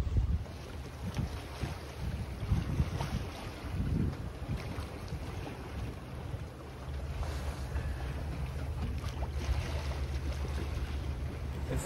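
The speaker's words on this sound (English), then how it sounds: "the wind has picked up to about 20 knots so far" Aboard a sailboat between Inverness and Lossiemouth in wind of about 20 knots and steep four-foot waves, a constant roar of wind buffets the microphone while water rushes and sloshes against the hull, with no voices.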